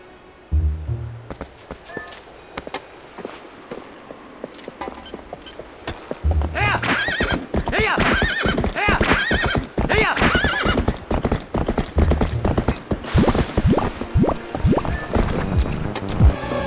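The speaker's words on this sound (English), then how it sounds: "just ride Epona over to them and start kicking some butt" The horse Epona in Zelda Twilight Princess gallops with steady, loud hoofbeats through most of the stretch, with neighs and whinnies rising over the busy game sound.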